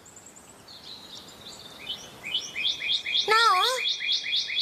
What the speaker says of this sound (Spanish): ¡Shh! Escucha. Un cardenal.